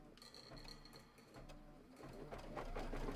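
A sewing machine stitches a decorative pattern with faint, rapid mechanical whirring and clicking in short bursts, quiet and close, growing slightly louder toward the end.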